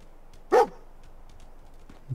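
A dog in Fallout 4 gives a single loud, short bark at close range, then a brief quiet growl-like rumble against a low hiss.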